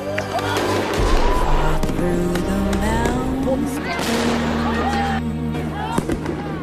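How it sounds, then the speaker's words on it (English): Police fire rubber bullets at student protesters as officers retake an occupied building at UCLA: sharp pops crack over loud crowd noise and shouting voices, with a constant chaotic din. "Police fire rubber bullets at students as cops reclaim the building from occupying protesters"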